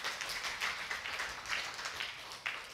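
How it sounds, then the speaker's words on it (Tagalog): Church congregation applauding at a Filipino worship service, a steady wash of many hands clapping with slight swells, no talking over it. "Malakas na palakpak para sa Diyos."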